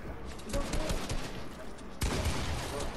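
Gunfire in a video game sounds as bursts of rapid shots, one burst early and another sharp volley about two seconds in, with a voice partly mixed in.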